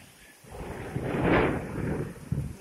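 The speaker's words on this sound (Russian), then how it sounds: "Тропический дождь." Heavy tropical downpour in the town of Rakhiv, a dense steady roar of rain that swells to a loud peak midway and stays broad and close, with no talking.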